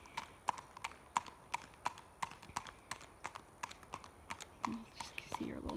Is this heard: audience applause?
no